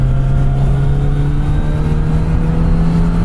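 Kawasaki motorcycle engine held in second gear, revving hard on a desert road in Anza Borrego, a loud steady drone with a strong sustained tone and wind rush throughout.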